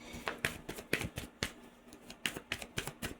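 Cards riffle and snap together in quick, uneven bursts, close and crisp, repeating several times with no talking.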